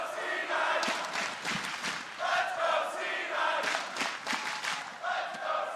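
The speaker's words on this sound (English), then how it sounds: "Crowd once again behind Cloud9 as they step onto the Rift." Large esports arena crowd at the 2016 League of Legends World Championship cheering and chanting loudly for Cloud9 in a best-of-five against Samsung Galaxy, a steady roar with rhythmic rises and shouts throughout.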